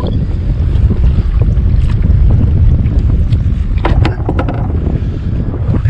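Strong wind roars steadily across an open fishing boat, a loud broadband buffeting against the microphone that lasts the whole stretch, with occasional brief clatters and water noise underneath.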